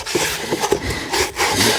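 Rough, scratchy rubbing strokes of sandpaper on a sanding block against wood, repeated in an uneven back-and-forth rhythm, close up with no talking.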